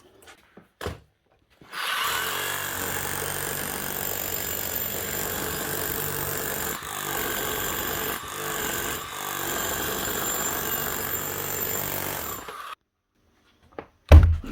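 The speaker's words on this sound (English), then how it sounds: "Give her a quick test, make sure she hammers." A repaired Hitachi brushless rotary hammer runs loud and close in a workshop test, hammering steadily for about ten seconds with two brief dips, then stopping, followed by a short burst of noise at the end.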